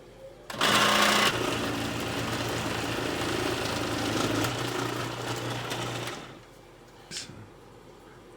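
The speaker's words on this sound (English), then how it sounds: "I'm just going to grate the cheese using a food processor." A food processor grates cheese for macaroni and cheese. A steady, close motor whir starts abruptly, runs for about five seconds and then cuts off, leaving quiet kitchen sounds.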